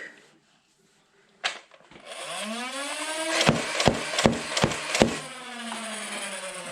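A Nerf Ultra Select blaster's flywheel motors whine as they spin up, then five darts fire in quick succession as five sharp close-up thumps over the motor hum.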